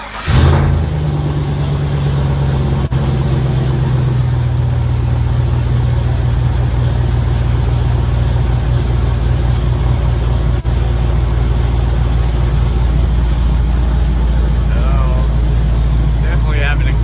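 An LQ4 V8 with a TSP stage 2 cam fires up and settles into a loud, steady, lumpy idle that holds throughout, with a faint voice under the rumble.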